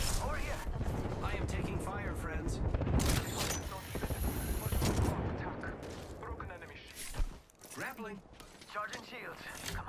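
Rapid automatic gunfire and weapon blasts from an Apex Legends firefight, dense and loud bursts layered with game effects and a voice talking throughout.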